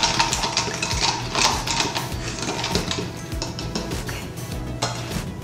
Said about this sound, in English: I'm gonna take a spoon and just mix it really well, or a fork